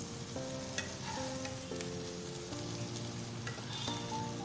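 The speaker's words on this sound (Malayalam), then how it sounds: "അതിലേക്ക് നമ്മൾ നേരത്തെ വറുത്ത് മാറ്റി വെച്ചിരിക്കുന്ന നെത്തോലി ഫ്രൈയും കൂടെ ചേർത്ത് നന്നായിട്ട് ഇളക്കി യോജിപ്പിക്കാം" Fried anchovies being stirred into a sizzling spicy garlic masala in a pan: a steady, close sizzle with intermittent spoon scrapes and tonal clinks against the metal, fairly quiet overall and with no voices.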